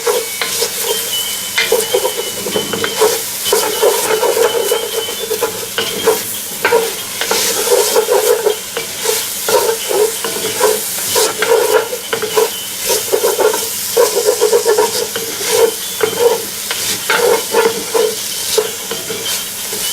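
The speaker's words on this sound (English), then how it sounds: "that's going to help deglaze that pan a good bit" Onions sizzle steadily in a hot pan while a spoon scrapes and stirs, deglazing the browned bits left from round steak for gravy; continuous loud frying with repeated scraping strokes and no talk.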